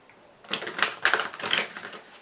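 Wicca tarot cards are shuffled close by, a quick run of crisp riffling flutters in short bursts, fairly quiet.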